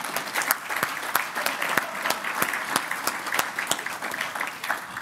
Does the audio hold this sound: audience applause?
yes